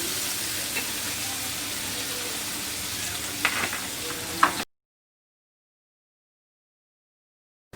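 Minced keema fries in oil with ginger-garlic paste on a tawa, making a steady, close sizzle with a few stirring bumps that cuts off abruptly into silence.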